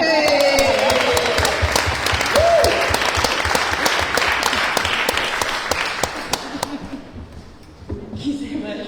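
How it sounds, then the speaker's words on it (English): Loud, sustained applause from a hustings audience for the mayoral candidates, dense clapping filling the room for several seconds before fading slightly at the end. "Can we have a massive round of applause for our candidates?"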